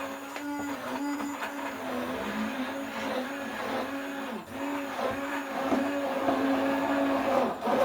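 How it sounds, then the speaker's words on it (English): An electric mixer whirs steadily as pancake batter ingredients are mixed, its pitch rising and dipping in a loud, continuous motor drone with no talking. "So we're just going to mix this up."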